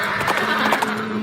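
A horse whinnies over a steady, close carriage-like rumble and faint hoof clatter, with a sustained drone running under the brief neigh.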